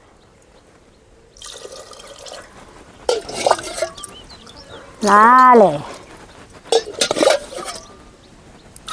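Water is poured in short bursts into a pot of rice, with dripping and splashing between pours while a person speaks in Tamil.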